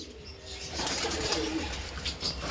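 Kaldam pigeons coo softly in a loft, low burbling calls repeating under a faint hiss of background noise, close but quiet, with no talk.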